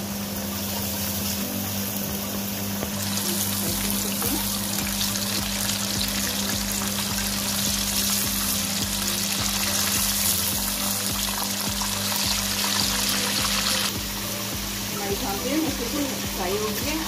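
Schnitzel frying in hot oil, a loud, continuous crackling sizzle that holds steady and intensifies in the middle, with a low hum underneath.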